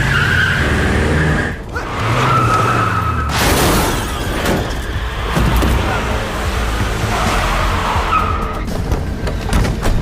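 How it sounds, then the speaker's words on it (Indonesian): A speeding car's engine roars as tires skid, then a sudden crashing impact with shattering as it hits two cargo workers, loud and close, with brief voices around it. "tiba-tiba datang sebuah mobil yang berjalan kencang menabrak 2 anggota pekerja dari"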